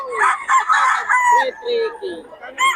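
A rooster crows loudly and close by, a drawn-out call followed by shorter clucking notes and a final brief crow.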